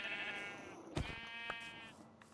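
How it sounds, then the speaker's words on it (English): Sheep bleat in a video game, a few drawn-out wavering calls overlapping one another, fairly faint, with no talking. "lots of sheep here"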